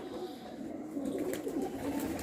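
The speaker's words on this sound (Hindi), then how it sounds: "ये हैं यहाँ के ऊदे कबूतर" Oode pigeons of Tonk coo softly, low repeated throaty calls swelling in the second half, faint and close, with some light background noise.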